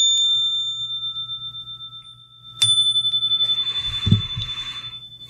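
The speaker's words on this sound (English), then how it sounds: "we'll start with the ringing of the bell." A meditation bell rings out twice, each strike clear and bright with a long, slowly pulsing sustain that fills the quiet space alone.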